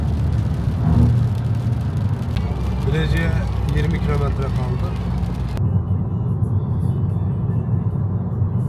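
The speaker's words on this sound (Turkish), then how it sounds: "Askerimiz de arabayı kullanıyor." A car with a soldier at the wheel drives along the road toward Bilecik, a steady low engine and road rumble running throughout beneath someone talking, the roar dropping and smoothing in the last few seconds.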